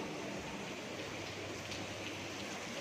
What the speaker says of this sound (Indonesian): Wow, hujan keras.